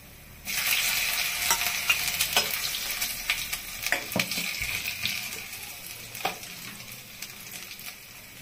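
Finely chopped ginger drops into a hot pan for a ginger garlic paneer dish, erupting into loud sizzling with scattered spatula scrapes and clicks as it is stirred, no voices.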